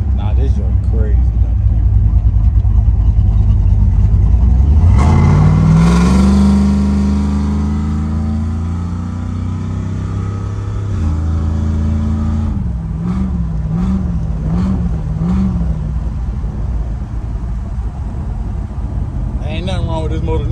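A Chevrolet S10 truck with a swapped LS V8 engine idles loud and close, then revs up in a rising sweep, settles, and blips in quick repeated throttle stabs before dropping back to a rumbling idle.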